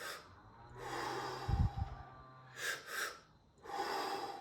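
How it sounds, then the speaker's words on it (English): Two quick, sharp sniffing inhales through the nose follow a snort, then a long, steady exhale drawn out to the end; the breaths are close and clear, with no talking. "physically how we do it is by doing 2 inhales and then long exhale"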